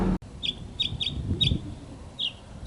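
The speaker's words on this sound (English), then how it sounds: "Hear the bird." Outdoors, a bird gives a series of short, sharp chirps, five or six quick calls spaced irregularly over a low background rumble, fairly close and clear.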